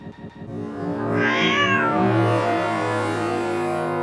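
Cartoon big cats meowing in a children's animated show, a loud rising then sustained cry with strong harmonics, heard alone without talk.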